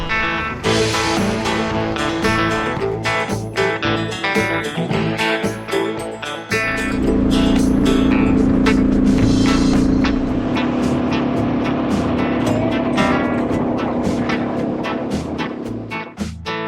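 A Suzuki DR650 motorcycle cruises the highway through Queensland's Great Dividing Range, engine droning under heavy wind buffeting, with a steadier, deeper held engine note partway through, loud and close.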